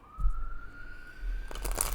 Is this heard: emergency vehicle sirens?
yes